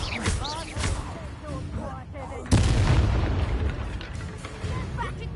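A Confringo fire spell explodes in the Hogwarts Legacy video game, landing as a sudden loud boom that cuts through ongoing game noise and voices. The blast is followed by a sustained rumbling roar.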